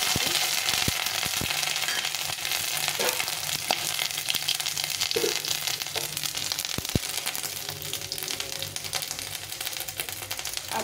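Crushed ginger sizzles in oil alongside dried red chillies and bay leaves for a lau shaak dal, a continuous close hissing fry with busy crackles and occasional spatula scrapes.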